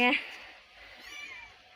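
A kitten lets out a single short, high meow at the start, then faint rustling and quiet background murmur follow.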